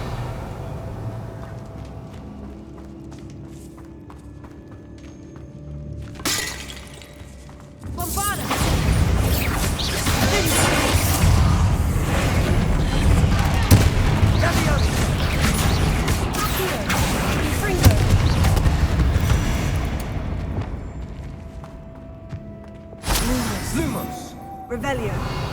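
Confringo and Bombarda blasting spells in Hogwarts Legacy go off one after another, a long loud stretch of crashing, booming magical impacts with mechanical clatter, bracketed by quieter stretches and sharp bursts near the start and end.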